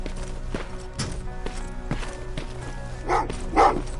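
Dogs bark in Terminator Resistance, a series of sharp barks and yelps at a moderate distance under a low ambient hum, with louder bursts toward the end.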